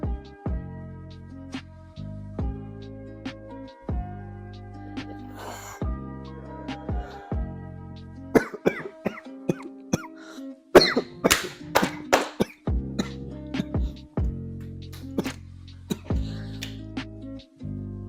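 Repeated bursts of coughing, several harsh hacks in clusters, heard between stretches of a steady low droning tone.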